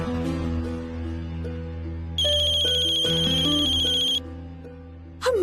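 A telephone ringtone sounding in a home during a TV drama scene, a bright electronic repeating tone that starts partway through and holds for about two seconds over a steady background music bed, with no talking.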